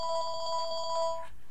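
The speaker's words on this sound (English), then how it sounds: "So I'm not going to answer the phone right now." A telephone rings with an incoming call from a brother, a bright electronic ringtone that sounds steadily and close, then cuts off abruptly, with no talk over it.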